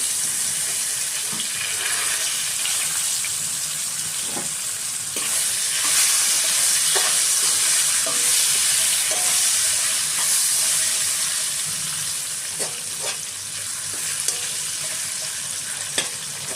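Long potato strips with cumin, mustard seeds and chilli pieces fry in a pan, a constant loud sizzle broken by occasional scrapes and clinks of stirring, close up with no talking.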